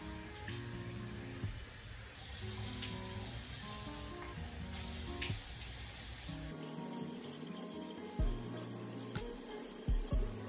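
Hot water runs steadily from a bathroom tap while someone washes their face, a continuous hiss and splash with faint knocks and drips near the end and no talking.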